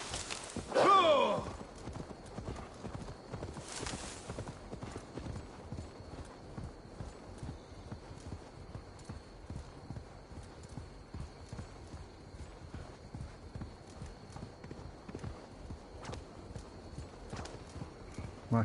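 Horse hooves clip-clop steadily while riding in Assassin's Creed Valhalla, a continuous rhythmic trot close by, with a brief louder burst and a short whinny near the start.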